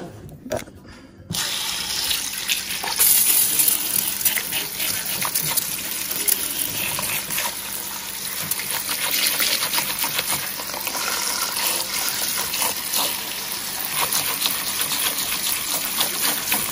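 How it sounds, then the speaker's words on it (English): Running tap water splashes steadily into a sink over grapes being washed for most of the stretch, a continuous gushing hiss after a brief quiet start. "let me go wash these grapes."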